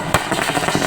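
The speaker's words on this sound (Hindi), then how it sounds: "सिंघार के समर्थकों और कांग्रेसी कार्यकर्ताओं ने आतिशबाजी कर जमकर जश्न मनाया" Fireworks set off by Congress workers and supporters celebrating outside a party office in Dhar: a sharp, loud burst near the start, followed by a dense, continuous crackle and popping that keeps on to the end.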